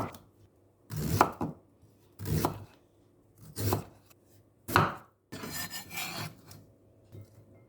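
Knife slicing a peeled carrot diagonally on a cutting board, five or six distinct crunchy cuts spaced about a second apart with a longer scraping rasp near the end, close and clear, no talking.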